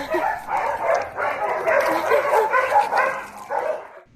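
Rescued shelter dogs left unfed and without water bark, yip and whimper together in a dense, close, continuous chorus that cuts off abruptly.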